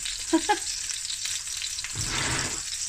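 Meatballs and tofu brown in a hot pan for a firecracker kimchi dish, with a steady close crackling sizzle that swells louder toward the end and a few faint stray tones near the start.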